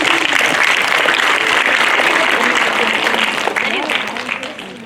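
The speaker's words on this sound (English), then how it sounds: "Can we give them a big clap," Strong applause from students at a school assembly, a full burst of clapping that stays steady before tapering off toward the end.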